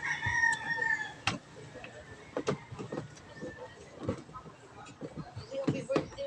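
A rooster crows in a home setting where a washing machine is being repaired, its call heard near the start over scattered knocks, clunks and people talking.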